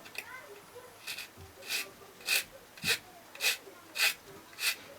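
A plastic part from a 1/24 Tamiya Ford Mustang GT4 scale model kit is filed by hand, with about seven regular rasping strokes growing steadily louder, close and otherwise quiet.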